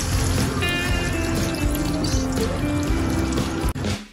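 Chicken stock made from chicken powder and water is poured into a hot frying pan for a chicken chili dry, giving a loud, steady sizzle and splashing that cuts off abruptly near the end.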